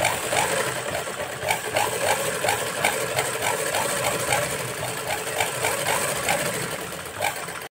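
A sewing machine stitches fabric with a fast, even mechanical chatter of repeating needle strokes, loud and close, running steadily before stopping abruptly.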